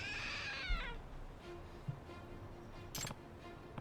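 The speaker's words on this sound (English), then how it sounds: "It meowed, so it's a trick statue?" A trick statue in the video game Lost Judgment lets out a single clear cat meow, a short descending cry up front, followed by faint clicks and a low hum in a quiet room.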